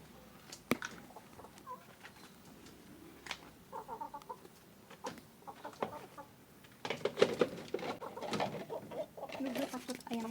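Chickens in a backyard coop where eggs are being collected, giving scattered clucks and short squawks at close range, busier toward the end, mixed with handling noises and occasional voices.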